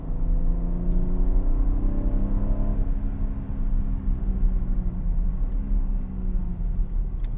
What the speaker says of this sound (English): Alpina 6-cylinder engine sound of this 3-liter biturbo